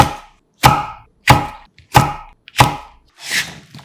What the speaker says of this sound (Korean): 그 다음 한입 크기로 3등분, 큰 것은 4등분 어슷 썰어